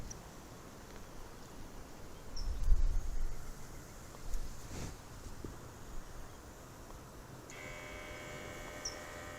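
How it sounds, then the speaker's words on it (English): A garden sprayer pump kicks back on near the end, adding a faint, steady electric hum over quiet outdoor background. "And there the pump's kicking back on."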